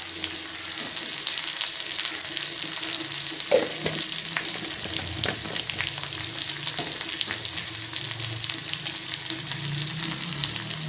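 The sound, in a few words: onions frying in hot oil with mustard seeds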